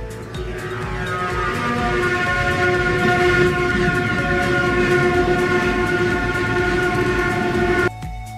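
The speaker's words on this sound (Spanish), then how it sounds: "los MR73 del Metro de Montreal, Canadá, poseen un sonido muy similar a nuestro MP82 antiguo" A Montreal Metro MR73 train running, with a steady loud rolling roar and a sustained layered tonal whine of traction motors. The sound holds for about eight seconds, then cuts off abruptly.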